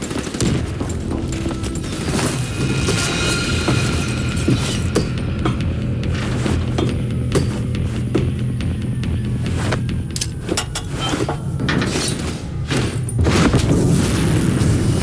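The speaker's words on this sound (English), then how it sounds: "Grenade detonated." In a Call of Duty Black Ops 3 combat scene, a grenade explosion booms amid continuous gunfire, mechanical clatter and sharp impacts, all loud and dense throughout.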